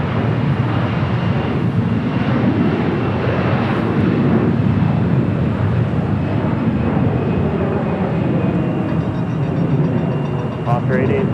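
Jet airliner taxiing and making a left turn onto taxiway Alpha 7 at Los Angeles International Airport, a steady loud engine roar with broad rushing noise throughout, without pause.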